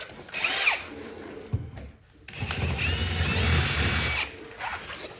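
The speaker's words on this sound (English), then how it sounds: "you're gonna take a 1/4 inch drill and open that hole up slightly" A 1/4 inch drill bores out the threads of a mounting hole on a Polaris General during a rock slider installation, two close whining bursts of drilling with a short pause between them.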